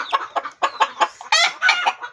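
A blind six-month-old chicken in a poultry pen clucks in quick, loud, close bursts that rise into a sharper squawk partway through.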